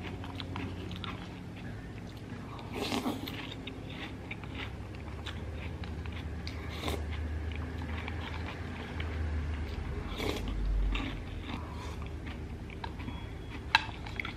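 Crispy snacks, a chocolate churro corn chip and cereal, crunched and chewed up close, with steady bites and louder crunches at intervals over a low background hum; no talking.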